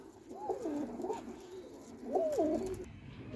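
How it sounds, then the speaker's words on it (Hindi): A young high-flyer pigeon coos twice, soft rolling calls close by with a pause between them, over a quiet background. "यंग कबूतर है।"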